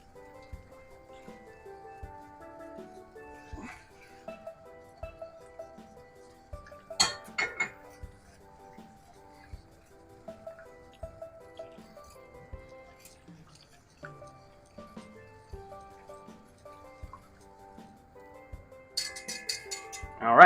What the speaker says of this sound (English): All right, we're done with the whisk.